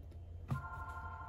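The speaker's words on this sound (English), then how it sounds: "The phone rings every single time I want to make a video." An indoor telephone begins to ring, a faint electronic tone that starts abruptly after a soft knock and holds steadily to the end, alone without talk.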